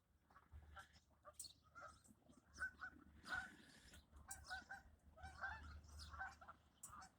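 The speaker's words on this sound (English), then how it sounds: "A lot of geese over, a lot of Canadian geese over on the other end." Canada geese honk repeatedly in the distance, a loose flock calling over a low rumbling background.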